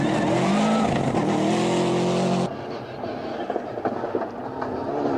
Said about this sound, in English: Tells you exactly the sort of Subaru it is on the number plate. Series 8 Group N car.